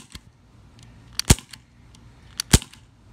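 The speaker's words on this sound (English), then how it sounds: "This is what it looks like firing." Smith & Wesson M&P 40 CO2 BB pistol by Umarex fired outdoors: two sharp, snappy pops about a second apart, each preceded by a faint click, with quiet mechanical ticks between.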